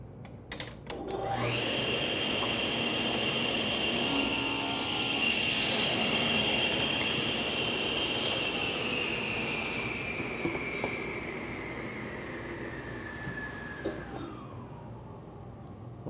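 A table saw cuts through a plywood drawer bottom, a loud sustained whine and rumble that holds steady for over ten seconds, then slowly drops in pitch as the blade spins down.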